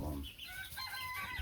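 Bantam chickens cluck steadily in a pen, with a dense, continuous layer of overlapping calls close by and no talking.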